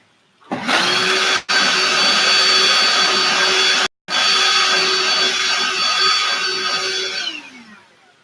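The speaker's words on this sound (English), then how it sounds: "I bought this dirt devil a few months ago." A Dirt Devil vacuum cleaner runs loud and steady with a constant motor whine, cutting out briefly twice before powering down at the end.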